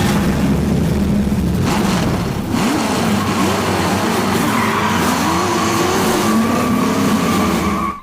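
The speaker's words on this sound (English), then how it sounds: "She's doing turns in the car." Car engine driving and turning in an American Eagle ad, a steady loud engine drone with rising and falling pitch as it steers, plus faint tire noise, continuous throughout with no talk.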